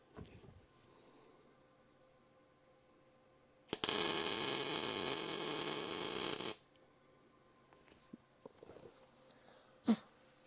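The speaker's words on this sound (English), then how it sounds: "So we're just going to zap a couple of tack welds in there and then we'll be good to go." A welder zaps a tack weld on truck frame rails, a loud crackling burst lasting about three seconds amid quiet shop background, followed by a few faint clicks and a brief sharp tap.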